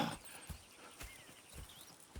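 Horse hooves clip-clop in a slow, steady walking rhythm in Red Dead Redemption 2, each footfall a distinct thud repeating about every half second, close and fairly quiet against a faint outdoor ambience.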